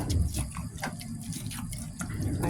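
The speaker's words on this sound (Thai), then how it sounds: "ตักน้ำซุปใส่" Liquid splashes and drips as soup broth with fish innards is ladled into a dish, a few close pours and trickles in a kitchen.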